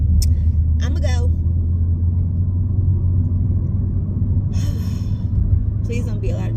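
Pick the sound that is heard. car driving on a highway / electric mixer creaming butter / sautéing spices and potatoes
car driving on a highway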